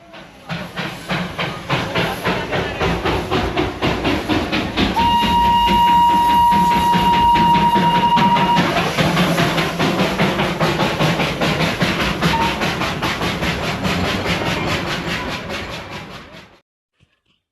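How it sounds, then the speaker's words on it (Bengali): The Darjeeling heritage steam engine train chugs with a steady, rapid rhythm of puffing and hissing, a brief whistle rising midway, loud and continuous before cutting off abruptly near the end. "এবারে তোমাদের স্টিম ইঞ্জিনের আওয়াজটা শোনাই চলো"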